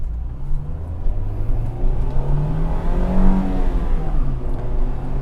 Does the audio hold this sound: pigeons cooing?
no